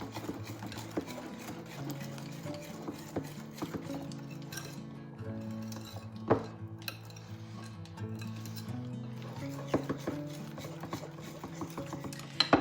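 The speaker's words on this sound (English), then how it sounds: "This will get thicker as I keep mixing it." A spoon scrapes and clinks steadily against a bowl while a guilt-free chocolate coffee dessert is stirred, with a soft rhythmic clatter and occasional sharper taps, close and fairly quiet. Background music plays underneath.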